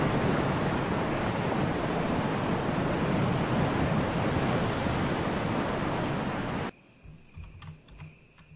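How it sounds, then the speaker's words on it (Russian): Steady broadband rushing roar of a distant waterfall in Resident Evil HD Remaster, constant for several seconds before cutting off to a quieter background with faint knocks. "You can hear the sound of a waterfall in the distance."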